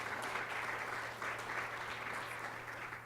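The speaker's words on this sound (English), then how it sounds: "please give her a round of applause" A crowd claps steadily in sustained applause at a women's business enterprise event, a dense wash of hand claps continuing throughout at moderate distance.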